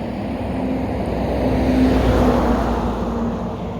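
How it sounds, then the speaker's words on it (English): A vehicle's engine rumbles steadily as it passes near an airfield, with a broad, continuous roar that swells slightly in the middle and then eases. "Actually, a truck coming."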